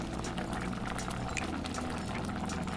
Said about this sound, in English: Right now, I would say that about half of the cranberries have exploded.